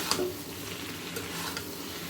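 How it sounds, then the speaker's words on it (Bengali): Eggplant frying in a pan makes a continuous sizzle while it is stirred, with a few faint scraping clicks and no one speaking. "বেগুনটা দিয়ে একটু নেড়ে"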